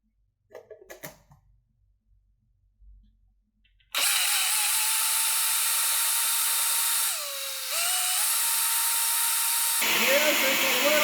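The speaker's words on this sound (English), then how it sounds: "next things up is we are going to blend." A blender runs loud and steady, pureeing chicken broth simmered with peppers into a sauce, with a brief dip in motor pitch partway through and a few clattering knocks before it starts.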